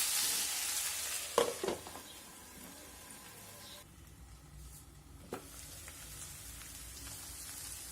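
Vegetable pieces for samiya upma cook in a pan, giving a steady soft sizzle with a few louder stirring clatters near the start and one more scrape midway, with no one talking.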